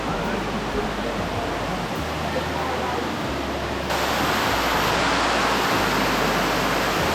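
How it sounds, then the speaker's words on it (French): Water roars as it crashes down the world's tallest artificial indoor waterfall, 35 metres high, inside the Cloud Forest dome in Singapore, a dense continuous rush that grows slightly louder partway through. "c'est la plus haute cascade artificielle du monde, 35 mètres de hauteur."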